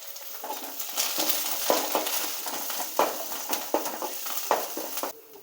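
Finely chopped onions sizzling in hot oil with curry leaves in a pan, a steady fry broken by stirring scrapes and clinks at intervals, close and clear, no talking.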